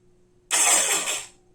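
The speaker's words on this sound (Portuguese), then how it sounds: "Quando eu soltar, o motor vai dar uma continuidade." Electric motor of an AEG airsoft gun whirring loudly for under a second after a sudden start, then winding down and fading as it slows, with no talk.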